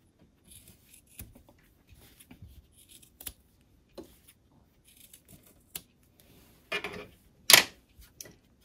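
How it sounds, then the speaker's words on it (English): Scissors trimming the corners of sewn fabric for a soup bowl cozy, a few sparse quiet snips and handling rustles close by, with one sharper louder cut near the end and no talking. "I'm going to trim these corners, making sure not to trim the stitching."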